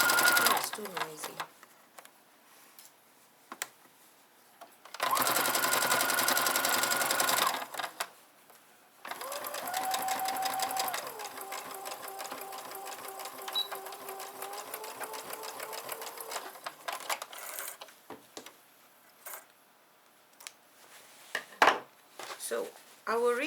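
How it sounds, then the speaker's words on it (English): Sewing machine stitching a bag, loud rapid mechanical whirring in bursts separated by pauses with clicks and handling, a voice speaking between and under the runs. "So I will reinforce it by stitching on this top part, and fold this part nicely and stitch it here."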